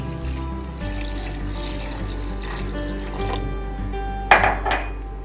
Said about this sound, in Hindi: अब इसमें मैं जाने दूंगा पानी।